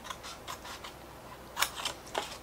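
Scissors snipping through paper while cutting out pieces for a handmade Christmas advent calendar; several quick close cuts in a loose rhythm, the last three sharper and louder, with no talk.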